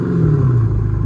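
A car with an aftermarket exhaust gives a short, loud, deep rumbling rev, heard close up with no talking.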